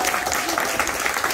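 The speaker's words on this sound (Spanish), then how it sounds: "Denme un aplauso más fuerte a Joana" Brief burst of audience clapping at a charity foundation event, dense and fairly loud applause honoring a performer.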